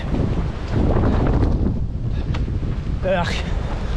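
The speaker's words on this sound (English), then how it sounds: "Pouring with rain, wind right in my face." Strong wind buffeting the microphone during pouring rain on a long outdoor run, a constant loud rumbling roar with gusty surges, and faint brief high sounds near the end.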